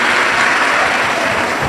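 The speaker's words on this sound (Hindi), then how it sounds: "जोरदार ताली बजाकर स्वागत वंदन अभिनंदन" Loud, sustained applause from a large crowd welcoming the chief hosts at a live Shiv Mahapuran katha in Sehore, Madhya Pradesh, with dense overlapping clapping and no speech.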